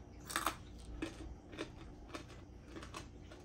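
Several crisp crunching bites into thick smoked pork bacon, with sharp bursts spaced about half a second apart at first and then more faintly, heard close up with no talking.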